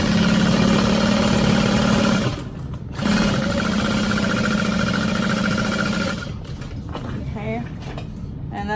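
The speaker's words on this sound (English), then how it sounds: "I'm just gonna sew with a little bit wider of a seam allowance so that the bottom of the bag isn't saggy" A sewing machine runs steadily at close range as it stitches a bag seam at a stitch length of 3.5 to 4, a constant mechanical whir with one brief pause before it starts again and then winds down.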